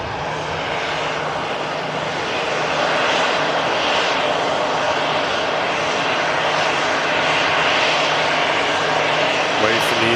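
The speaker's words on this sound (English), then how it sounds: "It's EasyJet arriving in from Palma de Mallorca." An EasyJet airliner arriving from Palma de Mallorca passes close with loud, continuous jet-engine roar that swells slightly and holds steady, with a faint voice briefly near the end.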